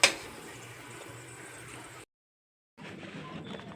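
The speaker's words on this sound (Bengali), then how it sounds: "আজ আমি পাঁপড় ভেজে নিচ্ছি।" Papad (poppadom) frying in hot oil at home, a steady soft bubbling sizzle that runs for about two seconds, breaks off into silence, then resumes fainter.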